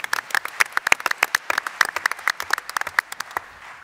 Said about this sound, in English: I think this is the time for applause.